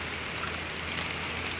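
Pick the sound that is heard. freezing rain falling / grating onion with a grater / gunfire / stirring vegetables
freezing rain falling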